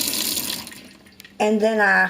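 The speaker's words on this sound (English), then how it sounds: "normally I leave the water going so I can, put the other clothes in it" Tap water runs while laundry is washed, first as a broad hissing splash and then as a stream filling a sink with a rising ringing tone, with someone speaking briefly.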